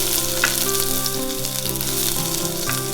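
Small onions fry in a pan with browned garlic for millet soup, giving a continuous close sizzle with faint stirring scrapes and no voices.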